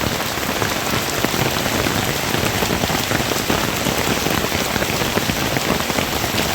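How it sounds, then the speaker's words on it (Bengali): Heavy monsoon rain pours down steadily near a pond during a low-pressure weather system, a loud, dense, unbroken hiss of drops hitting surfaces with no other sound. "প্রচণ্ড বৃষ্টি।"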